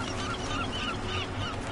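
Birds honking in the Deus Ex: Mankind Divided video game, goose-like calls layered over a constant dense game ambience, brief and moderately loud.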